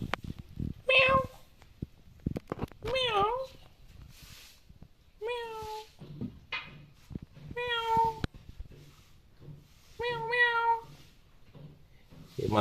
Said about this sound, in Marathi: मांजरीचं एक पिल्लू आहे.